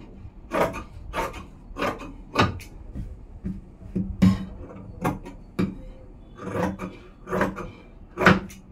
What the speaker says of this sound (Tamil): இப்போ வந்து நான் கட்டிங் பண்ணிடுறேன்